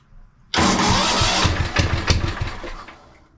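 A rare old tractor engine catches abruptly and roars, revving hard and uneven near at hand before the revs settle and fade somewhat toward the end.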